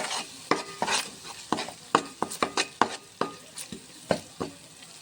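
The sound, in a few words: stirring ginger-garlic paste frying in oil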